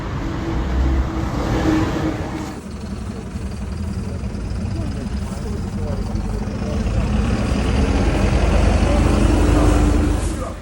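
Car engine running steadily inside the vehicle on a drive to a store, a constant mid-level hum and road rumble that swells slightly toward the end, with no talk.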